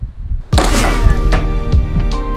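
A heavy 14-ounce PVC arrow launches from a picnic-table ballistic launcher with a sudden loud thunk, followed by a sustained resonant rattle and a few sharper knocks as the frame settles.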